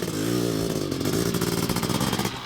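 A Honda CR500 two-stroke open-class dirt bike engine runs loud and close, a raspy, rapidly pulsing two-stroke buzz that holds steady over a couple of seconds, with no voices.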